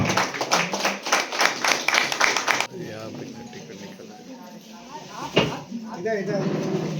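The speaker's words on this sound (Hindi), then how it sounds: "देखिए तालियों के साथ एक बार" Applause at a memorial welfare society's floral tribute and social-service award ceremony: dense rhythmic clapping for about three seconds, then a speaking voice over a murmuring hall.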